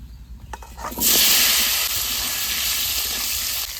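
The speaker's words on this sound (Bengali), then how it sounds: "এবার মাছ ভাজা তেলে আলুটা ভেজে নেব" Potatoes drop into hot oil left from frying rui fish: quiet clatter first, then a sudden loud, sustained sizzling hiss that holds steady close by.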